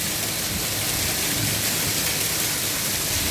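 Dense, steady rain hammers down without pause, a loud, broad hiss of rain and hail striking surfaces nearby, with no voices over it.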